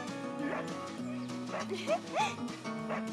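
Over a melodic musical backing in a puppet show, a voice imitates a dog with a few short, sung barking sounds spaced through the clip.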